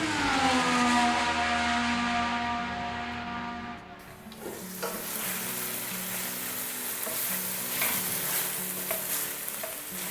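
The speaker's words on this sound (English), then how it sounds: "that chicken is sizzling away nicely" Oil hisses and crackles steadily as chicken fries in a pan, with a tonal hum early on before the sizzle fills in fully.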